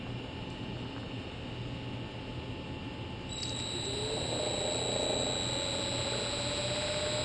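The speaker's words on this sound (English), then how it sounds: "now I'm going to run the motor up again with that capacitor in the circuit" A small electric motor with a capacitor in its circuit running up, a faint thin whine that rises in pitch partway through over a low background hiss.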